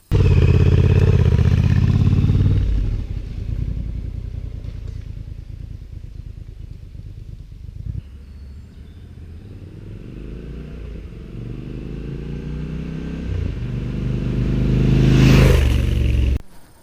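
A Triumph Scrambler 1200 XC motorcycle being ridden, its engine droning loud and close, easing off then building again with rising revs before a sharp swell near the end.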